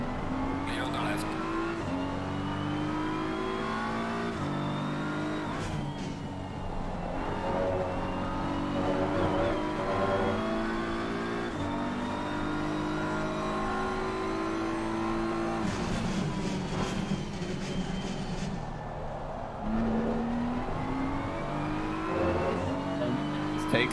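Race car engines roar continuously in a racing video game, revving up and down through gear changes with cars passing nearby and faint tire squeal, while a driver talks over the engine noise.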